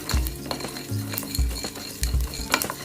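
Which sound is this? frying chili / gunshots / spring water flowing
frying chili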